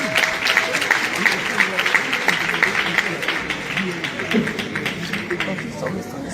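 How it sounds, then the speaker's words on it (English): Church congregation applauding, a dense wash of clapping with crowd murmur that stays fairly even for several seconds before thinning out. "Saints, can we just clap our hands and just show some love to Bishop Allen?"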